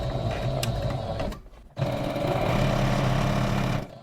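Sewing machine running in rapid stitching bursts while sewing backwards with the reverse button held, a brief pause midway before the needle chatter resumes close and steady.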